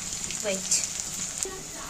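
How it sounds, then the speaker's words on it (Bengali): Vegetables frying in a pan with salt, turmeric, cumin and chili powder added, giving a steady soft sizzle with a few brief stirring sounds and a faint voice in the background. "এই এখন সবজিগুলো একটু ভাজা ভাজা হয়ে এসছে"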